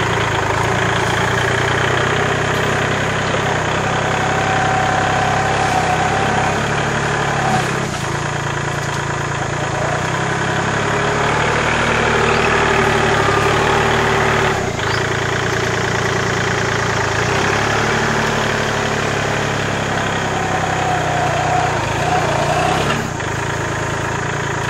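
A tractor engine idles steadily and loudly close by on a homestead for the whole stretch, with a constant rumble and no clear changes in pitch.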